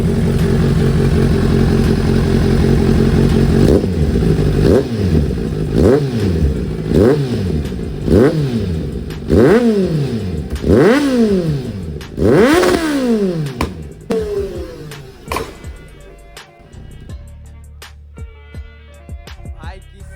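A Kawasaki Z900 motorcycle revs hard in a rapid series of loud throttle blips, each rising and falling, then crackles with sharp exhaust backfire pops as the engine settles toward idle, close up with no talk.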